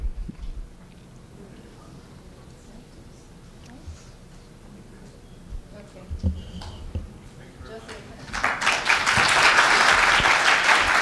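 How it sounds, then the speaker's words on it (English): Conference audience breaks into applause after a talk, starting quietly amid faint room noise and swelling into loud, sustained clapping near the end. "Warm applause."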